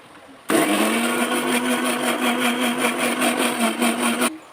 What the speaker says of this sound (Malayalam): എന്നിട്ട് നമുക്ക് ഒന്ന് മിക്സിയിലൊന്ന് ആദ്യം കറക്കിയെടുക്കും.